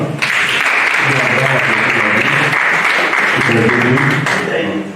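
A church congregation applauds in loud, sustained clapping that fills the room from start to finish, with voices calling out beneath it.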